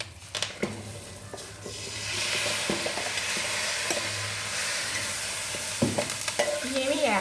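Hot tempering poured over boiled chickpeas bursts into a steady sizzle that fades in and out, with scraping stirs and a few clinks of a spoon against the pan, and no talk.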